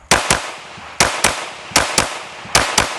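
Sharp, loud gunshots ring out during a two-target shooting drill, fired mostly in quick pairs with short pauses between strings, each crack close and echoing briefly.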